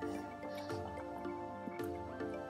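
Boiled water being poured into a cup for tea, a continuous close trickling fill with small dripping splashes, fairly quiet and steady throughout.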